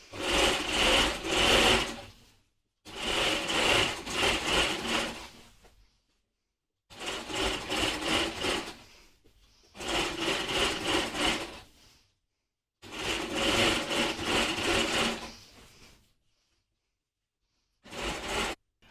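Sewing machine stitching a second reinforcing line along a garment yoke, heard as five steady, close runs of rapid whirring stitches, each a few seconds long, separated by brief pauses.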